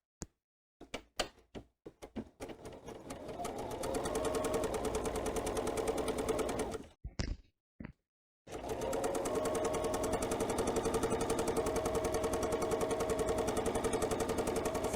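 A sewing machine stitches quilt pieces sewn right sides together with a 1/4 inch seam, running in long steady bursts after a few short starts, with a brief pause midway before continuing alone.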